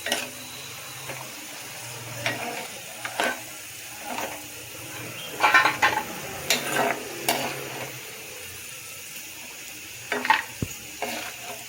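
Food frying in oil in a pan on a home stove, with a steady low sizzle broken by scattered scrapes and clinks of a spoon stirring, loudest in a cluster near the middle; no voices.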